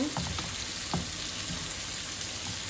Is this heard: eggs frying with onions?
yes